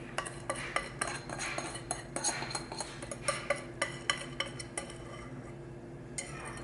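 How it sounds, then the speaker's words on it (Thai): Beef is mixed by bare hand with a sauce marinade for Thai heavenly beef jerky, faint wet squishing and soft clinks against a bowl in a repeated rhythm, close and quiet. "you're gonna mix beef with the sauce"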